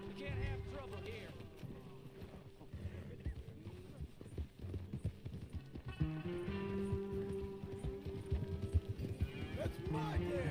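Horse hooves clip-clop in Red Dead Redemption 2, a steady rhythmic trot carrying through the whole stretch beneath game music and character voices.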